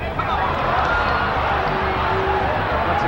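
A boxing crowd roars steadily at the 1987 Mike Tyson vs Tony Tucker heavyweight fight, a loud, dense wall of arena cheering under continuous commentary.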